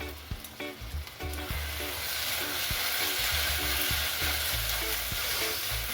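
Egg-fried rice with kielbasa sizzles in a pan, a steady bright crackle under scattered clinks and scrapes of stirring, close and moderately loud with no talking.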